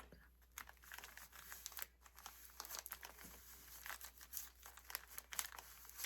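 A used paper towel crumpled by hand, giving soft, close crinkling and rustling bursts spread over several seconds at low level.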